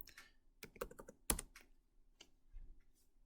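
Typing on a computer keyboard at close range: a sparse, irregular run of crisp key clicks with one sharper keystroke, quiet and alone with no voices.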